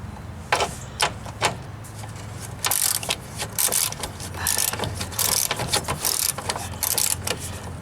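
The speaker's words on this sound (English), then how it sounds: "you can see the tank starting to drop just by taking these bolts out." Bolts come out of the gas tank on a rusty Jeep Wrangler YJ: a series of close metallic ratcheting bursts and clicks with short pauses between them, loud against a low background hum.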